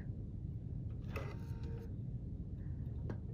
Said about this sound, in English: the machine moves to the next spot